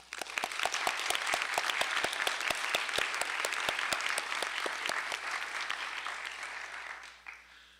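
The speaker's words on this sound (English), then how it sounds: "we owe them a bit of a round of applause now" A crowd claps steadily in warm, sustained applause at a graduation ceremony, dense and close, tapering off over the final second.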